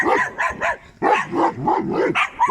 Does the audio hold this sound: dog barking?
yes